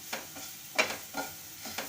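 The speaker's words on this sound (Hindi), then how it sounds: "ये डाल के आप हल्का सा इसको फ्राई करेंगे" Spices sizzle softly in a pan with turmeric, amchur, coriander and salt for a potato stuffing, with a few gentle stirring scrapes at a quiet, close level.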